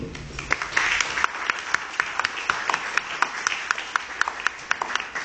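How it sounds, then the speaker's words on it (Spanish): Audience applause for the young poet Evelyn García, seated at the head table of a poetry event, a steady wash of clapping with scattered sharp individual claps standing out, moderately loud and continuous throughout. "Por favor, brindémosle un fuerte aplauso."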